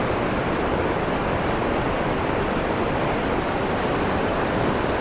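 Loud, continuous roar of rushing water from a stream or small falls along a hillside road trip route, a dense unbroken wash of sound with no voices.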